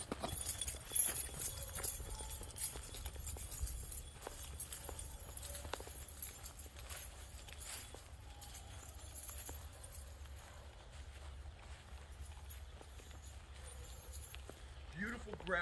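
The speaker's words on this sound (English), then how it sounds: "I'm gonna run down the property line" A person running on ground along a property line, rapid irregular footfalls close by over steady low rumble and wind, continuing throughout.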